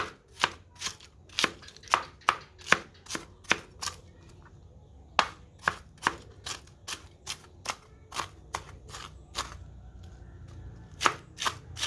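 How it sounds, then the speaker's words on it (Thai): Rapid knife chops through banana blossom on a cutting board, crisp sharp strikes in quick bursts with short pauses, close and clear, no talking. "หั่นพยายามหั่นให้ละเอียดละเอียดเนาะ"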